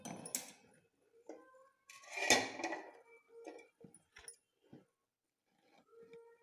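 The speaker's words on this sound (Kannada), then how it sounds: "ಈಗೊಂದು ಪಾತ್ರೆ ಇಡ್ತಾ ಇದ್ದೇನೆ." A cooking pot set down on a home kitchen stove before tempering with coconut oil, mustard seeds and dried chillies, giving a clattering metallic knock amid several smaller clinks and handling sounds, close and moderately loud.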